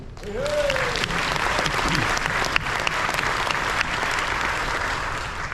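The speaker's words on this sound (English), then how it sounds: "Big round of applause to all of you." Audience on a cruise ship gives a sustained round of applause, a dense even wash of clapping from many hands in a large room, with a voice briefly audible near the start.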